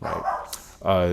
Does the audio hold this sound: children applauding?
no